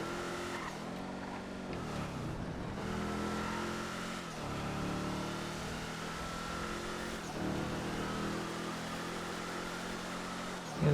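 A 2019 car from a GTA FiveM random race, engine revving and droning through repeated upshifts with rising and falling pitch, steady and moderately loud, with possible faint tire squeal.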